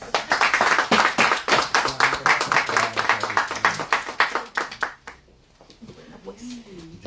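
Applause at the close of a book presentation in a library: a crowd claps briskly for about five seconds, then it dies away and a voice speaks.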